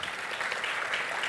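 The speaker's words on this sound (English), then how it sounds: "Can you give yourself a round of applause" A conference audience at the 2019 CCMA Indaba claps in steady, dense applause, a continuous wash of many hands at even loudness throughout.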